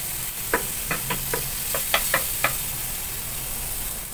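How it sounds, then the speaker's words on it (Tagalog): Garlic and onion sautéing in a pan, a bright continuous sizzle broken by a quick run of sharp spoon taps and scrapes against the metal, close and without talk. "ngayon ilagay naman natin yung ating bawang. Ayan, kunting halo-halo lang din para magsama na yung bawang at sibuyas"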